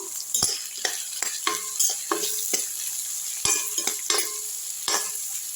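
Onions frying golden in a pan for a mushroom pepper fry, a steady close sizzle broken by sharp scrapes and clacks of a spatula stirring every half second or so.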